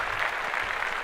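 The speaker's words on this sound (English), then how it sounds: "Clap that up again." Steady applause from a studio audience or group, broad and continuous for about a second, moderately loud with no clear individual claps standing out.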